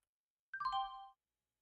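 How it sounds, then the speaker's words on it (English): A trading software alert chime sounds once, a short bright bell-like tone with several ringing partials that fades within about half a second, clear and fairly loud against silence. "Let me bring down this chime, by the way. It's kind of loud."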